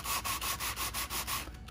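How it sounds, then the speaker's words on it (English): Rhythmic back-and-forth sanding of flat wooden CNC-cut clock parts, about seven brisk close strokes in steady succession, then trailing off, with no talk. "I'm gonna go ahead and sand all the flats"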